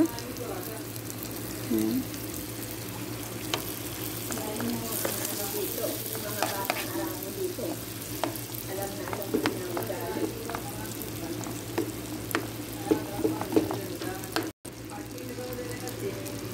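Lightly browned onions frying in butter in a pan for harees give a steady close sizzle with frequent stirring scrapes, and a voice speaks briefly over the cooking.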